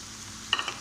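Tomatoes and green chillies drop into a pan of lightly fried yogurt, and a low sizzle is punctuated by a few quick metallic clicks over less than a second.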